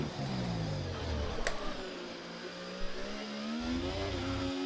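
An F1 car engine from the F1 video game revs and holds a steady, loud whine during a cautious lap, rising and falling in pitch as the throttle changes, with no voices over it.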